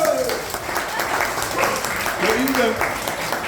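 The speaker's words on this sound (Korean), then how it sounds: "박수!" Applause from former students gathered for a 33rd graduation reunion and a teacher's retirement celebration, a dense steady patter of many hands filling the room, with voices calling out over it.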